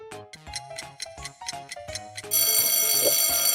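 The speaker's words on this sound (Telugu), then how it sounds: "గడియారం ఆగకుండా సమయాన్ని చూపిస్తుంది." A clock ticks in a quick, even run of crisp beats, then an alarm bell breaks into a loud, continuous ringing.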